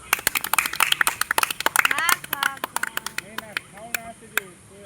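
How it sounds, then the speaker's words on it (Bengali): Children in a classroom clap quickly and sharply in a dense, irregular burst that thins into scattered claps, with voices mixed in. "হাততালি দাও"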